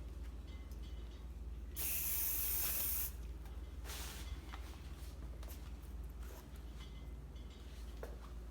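An aerosol can of hairspray gives one sustained hiss of about a second over a quiet room, followed by a shorter, fainter burst.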